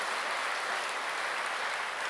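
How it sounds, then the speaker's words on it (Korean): Congregation applauding a returning mission team during a church worship service: steady, dense clapping throughout, close and fairly loud, with no talking over it. "박수 한번 보내주세요."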